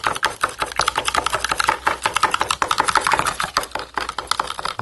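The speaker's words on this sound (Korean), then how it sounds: "굵은 소금 했던 것을 여기다가 넣고 그냥 저어 주십시오" Coarse sea salt is stirred into water to dissolve it for a fireproofing paste, giving a rapid, uneven series of scraping, grinding clicks against the container, close and continuous.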